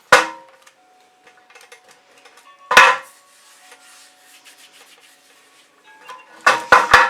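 A shovel-like tool scrapes excess fluid acrylic paint off a canvas edge during a black-and-white pour, with sharp close scrapes at the start, middle and end separated by quieter rubbing.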